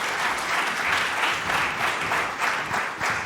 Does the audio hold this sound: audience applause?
yes